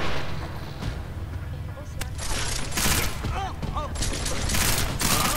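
Heavy gunfire in the video game Deus Ex: Mankind Divided comes as dense overlapping bursts with booming impacts, loud and sustained, with a voice talking over part of it.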